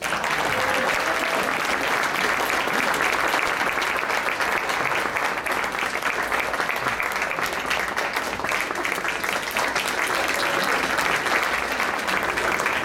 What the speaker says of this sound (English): Could I ask for a round of applause